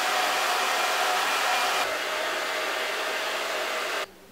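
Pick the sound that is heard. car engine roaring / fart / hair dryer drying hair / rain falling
hair dryer drying hair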